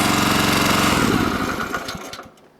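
Small engine on a towable backhoe fires up and runs with a loud, steady chatter, then drops away and fades as it settles near the end.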